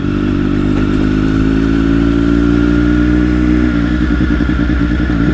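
A 2020 Triumph Daytona 765 Moto2 sport motorcycle pulling hard on a highway, its engine a loud, close, steady drone that climbs in pitch under heavy wind rush, then shifts to a pulsing lower note.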